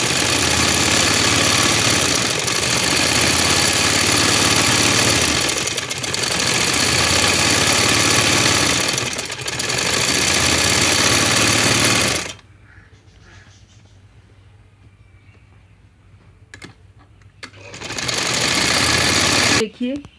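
Sewing machine stitching the hem of a kunday wali shalwar, a loud continuous mechanical whirring in long bursts with brief pauses, then quieter handling before it starts again.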